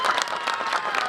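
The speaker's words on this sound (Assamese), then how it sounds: "সেইকাৰণে ছাৰৰ কাৰণে সকলোৱে হাত চাপৰি এটা মাৰি দি" Brief clapping from an audience at a Kendra Vidyalaya school annual day event, a short burst of crowd applause heard at moderate distance.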